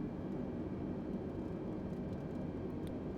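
A flight simulator airplane engine hums at reduced throttle, a steady, moderately loud broadband drone with no distinct changes and no voices.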